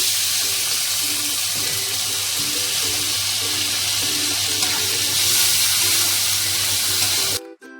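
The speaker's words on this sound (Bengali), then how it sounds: "একটু জল দিলাম" Water poured into a pot of simmering taro and tangra fish curry makes a steady, loud rushing pour that runs for several seconds before stopping abruptly near the end, no voices.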